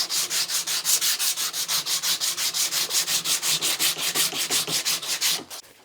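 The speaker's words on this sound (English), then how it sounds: "I'm down to 400 grit now, all around the handle." A natural, unstabilised wood knife handle is sanded by hand with 400 grit sandpaper, giving a rhythmic series of about thirty close, even back-and-forth rasping strokes that stop abruptly near the end.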